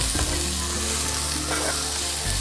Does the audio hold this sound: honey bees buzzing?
no